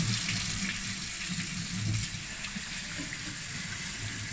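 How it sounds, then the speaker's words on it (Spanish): Cold water runs steadily from a kitchen tap, a continuous hiss and splash at moderate level with no talk over it. "Pues vamos al grifo, agua fría."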